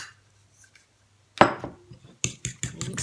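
Leftover food, ground meat and spices being stirred in a pan: after near silence, a sharp sizzle-like burst is followed by a quick series of metallic scrapes and clinks of a utensil against the pan.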